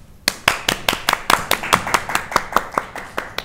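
Applause at an online business briefing comes as a steady run of crisp, evenly spaced hand claps, fairly close and moderately loud, with no talking over it.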